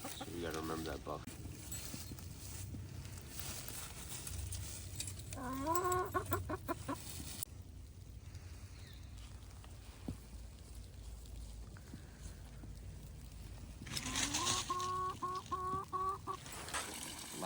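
Backyard hens in a chicken coop in winter cluck and call in two bursts of rising, quavering squawks, close by, separated by quieter stretches of low background noise, with no talk.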